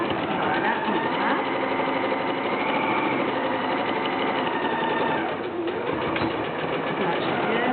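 A domestic sewing machine running a straight stitch on a fabric face mask makes a steady, continuous mechanical whir that carries through the whole stretch at an even level.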